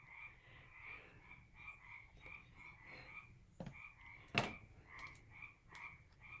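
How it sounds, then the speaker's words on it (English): Frogs croak in a steady, repeating chorus, faint and outdoors, with a couple of sharp clicks partway through. "Can y'all hear those frogs?"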